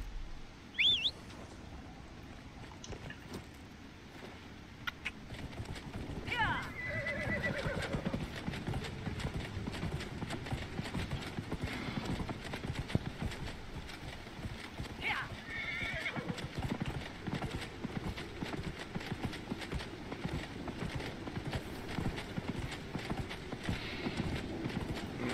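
Continuous galloping hoofbeats of a horse in the video game Dragon Age: Inquisition pound for the whole stretch, with a couple of whinnies cutting in early and near the middle.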